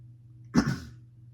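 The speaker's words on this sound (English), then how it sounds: "clearing my throat or sniffling" One short, rough throat clear, close to the microphone, rises out of a quiet room hum in an otherwise calm spoken recording.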